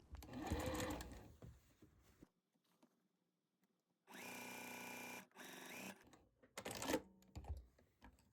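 Sewing machine stitching together the two ends of a tote bag strap in short bursts: a quick whirring run, a pause, then two longer steady stretches of rapid needle chatter with soft handling noises between, close and clear.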